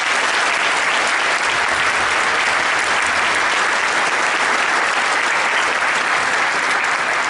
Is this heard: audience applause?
yes